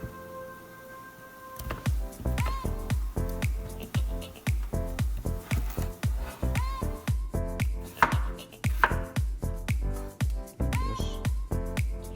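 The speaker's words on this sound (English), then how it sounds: "we're gonna cut the potatoes into small cubes" A knife chops potatoes into small cubes on a cutting board, a quick series of sharp, close knocks in a steady rhythm, with no talking.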